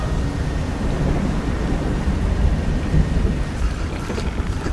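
A heavy thunderstorm with lightning at sea in the fishing game Dredge: dense, loud rain and rumbling thunder roll continuously with no pause.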